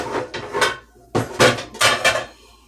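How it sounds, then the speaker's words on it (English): Metal cooking pans for beef and pork are pulled out and set down in a kitchen, a series of close, loud clanks and rattles in uneven bursts, with no talking. "And I will get pans to cook the beef and the pork."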